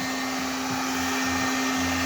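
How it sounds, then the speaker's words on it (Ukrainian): A heat gun runs close by while warming the tail light of a Mitsubishi Lancer 9, a constant loud blowing whoosh with a steady electric motor hum underneath. "Гріємо феном."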